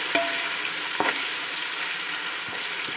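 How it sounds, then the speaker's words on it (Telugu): Ginger masala with whole spices frying in oil, a continuous close sizzle broken by a few sharp spatters and clinks, with no talking. "మసాలా పెట్టేస్తామండి బాగా ఫ్రై అవ్వాలండి నూనె పైకి తేలాలండి"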